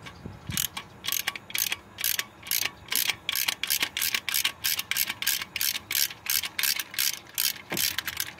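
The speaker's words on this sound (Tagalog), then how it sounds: "Pwede na natin na luwagan itong bolt." A ratchet wrench loosens a bolt on an Isuzu Crosswind engine during valve seal work, giving a close, loud series of rapid clicking bursts in a steady back-and-forth rhythm.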